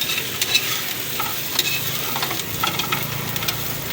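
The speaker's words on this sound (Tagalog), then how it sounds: "Halu-haluin lang natin." Fried tofu with chili peppers is stirred in a sizzling pan, a steady close frying hiss broken by irregular scrapes and clicks of the utensil.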